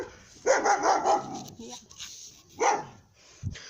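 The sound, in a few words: dog barking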